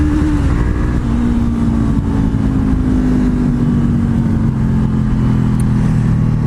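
A Honda CBR500R motorcycle engine drones steadily at close range while riding in winter weather, a continuous loud hum with a slowly falling pitch and wind noise throughout.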